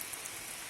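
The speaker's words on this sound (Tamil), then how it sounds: "4 நாட்கள் கழித்து நல்ல அருமையான மழை பெய்து கொண்டிருக்கிறது." Rain falls on a freshly sown black gram field as a steady, soft hiss of drops. It is faint and continuous for a brief moment.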